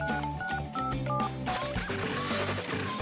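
Toy phone buttons pressed to produce a quick series of electronic dialing tones, a steady sequence of short beeps at close range that turns into a jumbled electronic tone burst.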